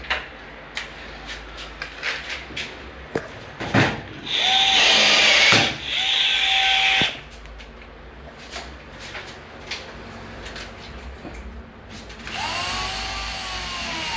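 A power drill whirs in two short loud bursts amid scattered taps and clicks, followed by a higher whining tool sound near the end.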